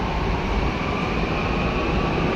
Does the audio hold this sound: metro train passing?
yes